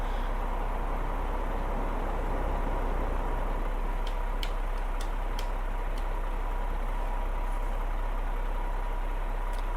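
A truck engine from a modded driving-game soundpack idles with a steady, low, continuous rumble, with a few faint ticks near the middle and no talking.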